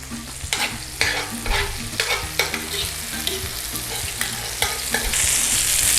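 Pork chops and garlic frying low and slow in butter and oil, a steady close sizzle with repeated spatula scrapes and clinks against the pan at an uneven pace, no voices.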